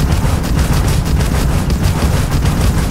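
Vanguard Obliterator auto projectors firing in Starfield, a dense, continuous barrage of rapid gunfire-like bursts with heavy low rumble, loud and steady throughout with no talk.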